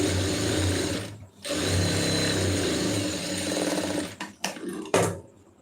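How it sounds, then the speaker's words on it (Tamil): A sewing machine stitches the sleeve of a lined blouse with a loud, close, continuous motor hum and needle clatter, pausing once briefly, then ending in a few short stop-start bursts. "இப்போ வந்து தையல் ஓட்டிடுங்க."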